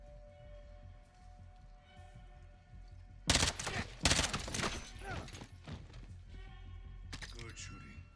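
Gunfire in Call of Duty Modern Warfare II, underground: sharp bursts of shots crack out midway, loud and close, with a later short volley, under and between talking voices and background game ambience.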